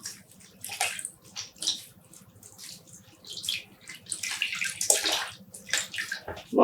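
Wet splashing and trickling water as soaked, freshly dyed black yarn skeins are wrung out by hand, close up, in uneven bursts of dripping and squishing.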